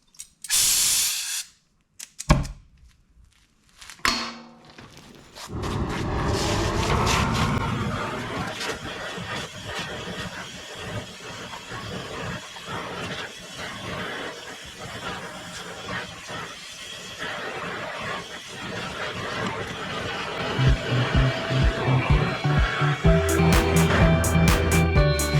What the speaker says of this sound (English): I'm gonna heat the end, let it suck through, heat it again, let it suck through